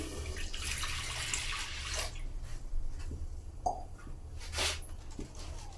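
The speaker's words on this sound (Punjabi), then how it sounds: "ਹੁਣ ਆਪਾਂ ਇਹਦੇ ਵਿੱਚ 1 ਕੱਪ ਪਾਣੀ ਦਾ ਪਾਵਾਂਗੇ" A cup of water is poured into a pressure cooker holding mango and sugar for chutney, a soft, splashy trickle with a few brief gushes, fairly faint and close, with no talking.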